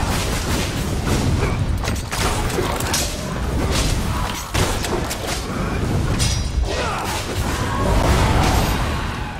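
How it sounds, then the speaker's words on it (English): Repeated booming blasts and crashes from explosive attacks in The Elder Scrolls Online, dense and loud throughout, with heavy low rumble and scattered impacts. "They all have an explosion."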